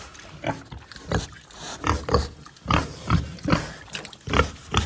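Pigs grunt and oink repeatedly at close range, short rhythmic snorts coming about once a second over faint background noise.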